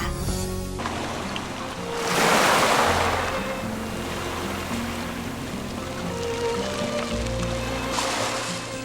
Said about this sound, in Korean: 거친 파도에 검푸른 갯돌들이 자그락자그락 말을 건네는 것